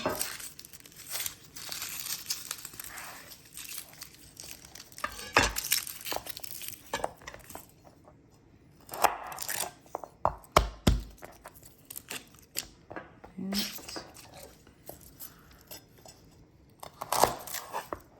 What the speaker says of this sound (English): I'm just gonna mince up a few cloves here